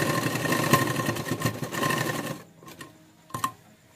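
A sewing machine runs steadily while stitching a zip into a burqa, its rapid mechanical whir loud and close for over two seconds, then it stops and a few faint clicks and handling noises follow.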